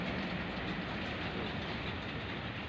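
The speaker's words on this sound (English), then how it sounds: "a diesel locomotive, a WDG-3A," Broad, steady rumbling roar of a passing WDG-3A diesel locomotive pulling a goods train on the Bongaigaon-Guwahati line, loud and close, with a continuous rolling clatter and no pauses.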